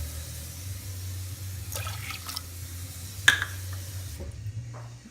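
One and a half cups of water run and trickle into a pot with a steady low rush, a splashy burst midway, nearby and without speech.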